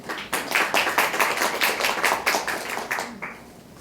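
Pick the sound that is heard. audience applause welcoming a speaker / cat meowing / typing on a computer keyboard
audience applause welcoming a speaker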